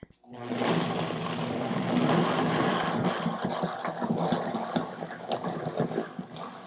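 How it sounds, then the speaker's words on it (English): A Vitamix blender whirs loudly through acai bowl ingredients, a steady dense roar with churning, fluctuating texture as the contents break down, running continuously near the microphone. "Now that I have everything in the Vitamix, we are going to start blending."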